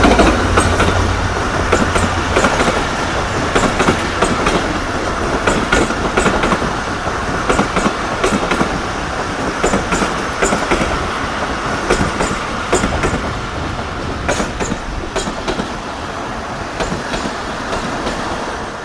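A passenger train running from Karachi City to Mirpur Khas behind an SGMU 30 locomotive, heard close and loud as a continuous rumble with steady clickety-clack of wheels over rail joints and occasional squeal, with no talk.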